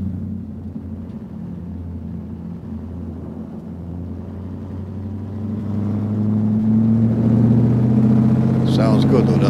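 A 1967 Chevelle SS 396 with its big-block V8 idling in a deep, steady rumble that swells louder and rises in pitch as the engine is revved toward the end, heard close up outdoors.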